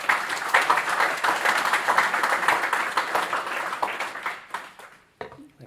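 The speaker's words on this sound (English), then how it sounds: "And quick round of applause." An audience applauds at the close of an engineering assurance presentation, a dense wash of clapping that holds steady for several seconds and then thins out into a few scattered claps.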